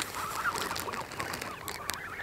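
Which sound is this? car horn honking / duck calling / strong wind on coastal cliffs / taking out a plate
duck calling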